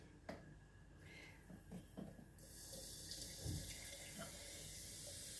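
Hot water pours steadily from a tap into a sink, a broad rushing hiss that grows fuller and louder partway through, with a few light clinks early on.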